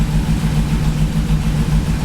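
A GMC Yukon engine idles with a slight misfire and a possible exhaust leak, giving a steady, close, loud low rumble with a faintly uneven pulse and no talking.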